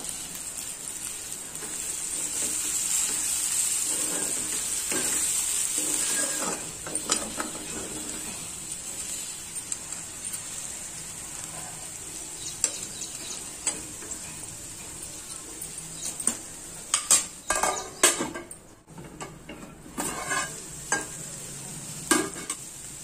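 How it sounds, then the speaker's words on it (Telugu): Bitter gourd fry with chili and coriander powder cooks in a pan, a steady sizzling hiss with frequent sharp spoon scrapes and clatters against the pan, getting denser and louder in the second half. "ఇప్పుడు రుచికి సరిపడా కారం వేసి కొద్దిగా ధనియాల పౌడర్ చల్లుకొని 2-3 నిమిషాల పాటు ఉడికించండి."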